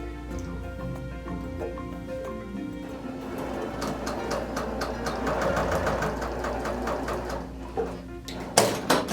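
Sewing machine stitching a quarter-inch seam through quilt fabric, a steady mechanical whir with a dense rapid needle chatter that builds slightly and ends in a few louder clunks.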